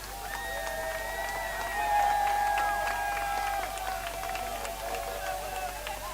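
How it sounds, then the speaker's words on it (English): Union Samba SC supporters in the stands at a Southern Football Association match against Union Hall United keep up a steady roar of cheering and applause, swelling briefly near the middle, with tonal horn-like whistles threaded through the crowd noise. "Now we're hearing some lusty cheers and applause from the supporters in the stands of Union Samba SC."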